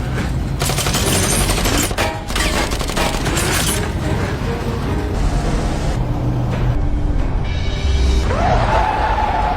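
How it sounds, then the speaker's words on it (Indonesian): Rapid bursts of gunfire crack repeatedly amid a loud, chaotic action scene with engine noise and rumbling booms throughout. "mereka mulai melepaskan beberapa tembakan"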